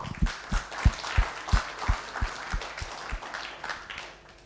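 A small audience claps for participants at a French workshop on conscious digital use, sparse and fairly quiet with a few distinct, roughly regular hand claps standing out over scattered lighter clapping for a few seconds.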